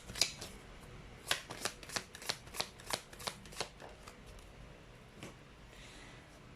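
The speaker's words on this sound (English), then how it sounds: "That's the beauty of live shuffling." Playing cards shuffled live by hand in a rapid riffle, a quick run of crisp clicking flutters up close, then a few softer card slaps near the end, no talking.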